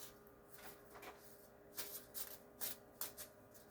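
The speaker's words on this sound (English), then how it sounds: "Now we're shuffling the deck" A deck of tarot cards is shuffled by hand in a quiet room: soft riffling at first, then several sharp, crisp riffle bursts in quick succession, fairly close and alone without talk.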